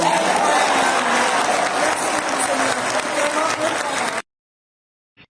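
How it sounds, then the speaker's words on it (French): Audience applause in a concert hall: a dense, loud wash of many hands clapping continuously for about four seconds, then stopping abruptly into silence. "alors faisons un applaudissement"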